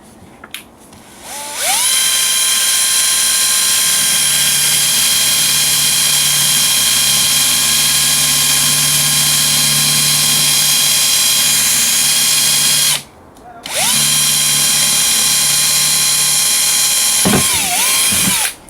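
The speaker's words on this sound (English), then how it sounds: "Let's start drilling." Power drill boring ventilation holes into a worm box, a loud high-pitched whine held steadily for about eleven seconds, a short pause, then a second long run of drilling, close up with no talk.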